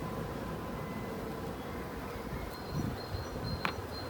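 Honeybees at an opened hive during an inspection, a steady low hum with a few sharper buzzes passing close near the end, heard alone without talk.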